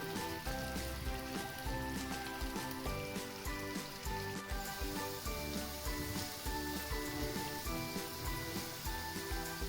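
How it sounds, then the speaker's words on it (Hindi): Medium-sized onions frying in hot oil until golden make a steady, continuous sizzle that runs unbroken, with tonal sounds layered over it. "प्याज को हमें इतना फ्राई करना है कि प्याज में एक अच्छा सा गोल्डन कलर आ जाए"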